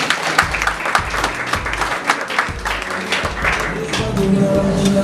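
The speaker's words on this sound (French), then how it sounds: "Vos applaudissements s'il vous plaît." Applause from an audience at a French-language competition as scores are announced, a steady patter of clapping that swells toward the end, with a voice and music-like tones underneath.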